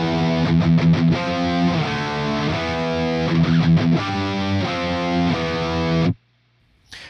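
Distorted electric guitar chugs through a riff, a four-measure repeating figure, loud and driving with rhythmic palm-muted bursts, then cuts off abruptly into near silence at the end.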